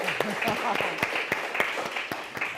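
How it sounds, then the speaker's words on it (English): Scattered hand claps from a small group, irregular and moderately close, with voices talking and a tonal voice sliding over the top. "Let's follow through on that applause, Rob"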